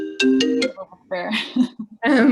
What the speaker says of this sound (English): Oh my God, I'm getting a phone call.